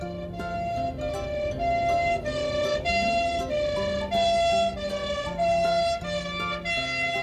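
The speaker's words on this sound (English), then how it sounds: "Ambulance." An ambulance siren wails in a steady repeating two-tone pattern, loud and close, sounding alone without any voices.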